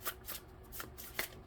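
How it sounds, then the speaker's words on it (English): A deck of cards is shuffled during a tarot-style reading, with soft repeated riffling bursts in an uneven rhythm, close and quiet with no talking. "I'm going to give it one more shuffle."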